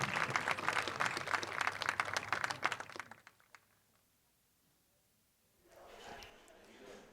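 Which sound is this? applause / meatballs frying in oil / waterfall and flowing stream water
applause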